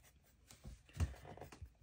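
A pen scratches out a short math problem on paper in a few quick, faint strokes.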